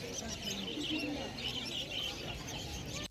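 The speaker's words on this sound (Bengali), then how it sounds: "আর এদিকে তোমরা লং টেল ফিন্স দেখতে পাচ্ছ" Small finches, including long-tailed and star finches, chirp continuously amid the bustle of a crowded bird market in Kolkata, with voices murmuring in the background.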